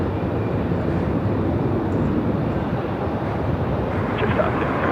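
A Qantas aircraft landing at Melbourne Airport gives a steady, loud, broad roar of jet noise mixed with wind rumble at the microphone, continuous throughout.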